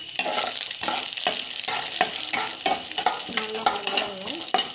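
Chana dal with mustard seeds and cumin sautéing in a hot pan, loud close sizzling and frying with repeated scraping stirs of a spoon at a steady rhythm.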